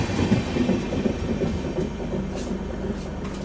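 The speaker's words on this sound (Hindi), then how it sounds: "खोंगसंग जनशताब्दी खोंगसंग एक्सप्रेस ये तुरंत यहाँ से निकल रही है" Khongsang Jan Shatabdi Express pulling out of a station, a steady rumbling rail noise with clickety-clack wheel beats and a low diesel drone, close and fairly loud throughout with no voices.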